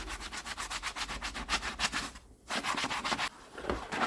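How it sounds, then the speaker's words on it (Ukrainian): A sponge rubs softener onto a leather boot in quick, steady back-and-forth strokes, a soft, close, rhythmic scrubbing with one brief pause and no talking. "І наносимо його губкою на кожен чобіт."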